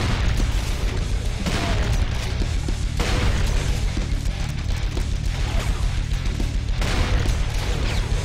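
Explosive booms and gunfire from the PC shooter Brutal Doom, with a thrown grenade blasting amid a dense, loud wash of combat noise that surges in bursts across several seconds.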